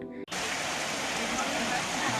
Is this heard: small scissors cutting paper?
no